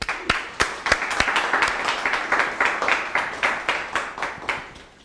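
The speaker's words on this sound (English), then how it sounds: "so if you can all give Eddie a big round of applause." An audience at a Python programming meetup applauds for the next speaker, with steady, dense clapping close by that fades slightly toward the end.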